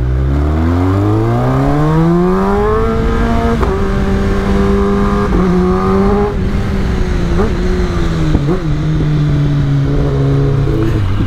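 A Kawasaki ZX-10R sport motorcycle engine under way, loud and close, climbing steadily in pitch through the gears with brief dips at shifts, then holding a high, strained drone near the end.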